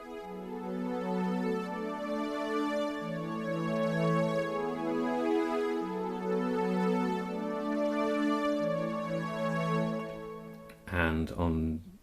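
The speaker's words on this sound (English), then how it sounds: "on Digital Synth 1 I'm using JP8 Strings1" Roland JD-Xi synthesizer playing its JP8 Strings1 patch, sustained lush string chords shifting slowly and alone, with a short burst of a different sound right at the end.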